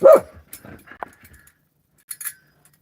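A dog gives a sharp bark followed by several short yelps and whimpers, close by, with scattered pauses and a couple of quick yips near the end.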